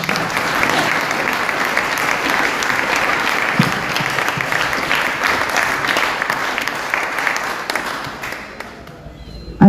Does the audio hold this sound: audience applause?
yes